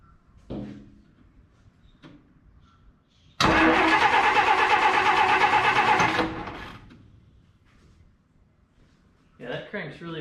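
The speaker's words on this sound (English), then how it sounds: "I'm gonna go ahead and hit the key and see if it'll crank with the new battery" The starter of a 1953 Plymouth Cranbrook cranks its engine on a new battery in one loud, rapid, churning burst of about three seconds. Brief talk comes before and after, and metallic clunks are heard nearby.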